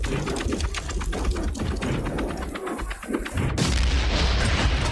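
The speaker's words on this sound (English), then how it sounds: "That's another explosion nobody has been alerted to." A dynamite explosion in the video game Valiant Hearts, with a loud rumbling burst and dense rapid crackling and booming that continues throughout, no talking.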